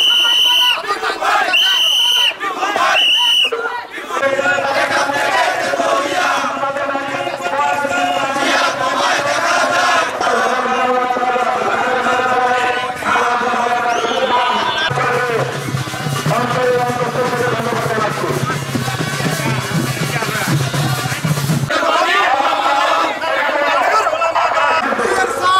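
Crowd of BNP activists and allied groups arriving in processions at a rally in Narayanganj, a continuous loud din of chanting and chatter with rhythmic cheers and hubbub, with a narrating voice over it for most of the stretch.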